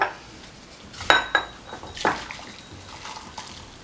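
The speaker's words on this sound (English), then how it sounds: "Then I'm going to scoop out the broth." A ladle scoops ramen broth into a bowl, with a few clinks of metal against ceramic and light liquid pouring sounds, close and fairly quiet with no talk.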